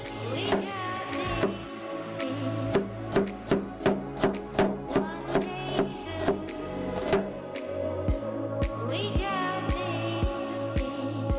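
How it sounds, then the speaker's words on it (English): A knife chops an onion into small cubes on a cutting board, a steady run of sharp, evenly spaced knocks close by, pausing briefly before resuming. "let's grab an onion and let's peel it. And cut it into small cubes."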